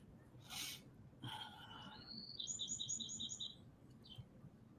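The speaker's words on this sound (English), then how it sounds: "Birds are chirping." Birds chirping outdoors: a few short calls, then a bright run of quick repeated tweets that fades out, faint over a low background murmur.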